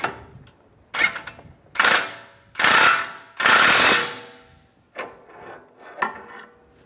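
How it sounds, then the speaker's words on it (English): A ratchet snugs up the tie rod nut on a 2004–2010 BMW X3, heard as several close, loud bursts of rapid clicking with short pauses between strokes, fading to lighter clicks at the end. "I'm just going to take a pry bar, pry it up while I just snug up the nut."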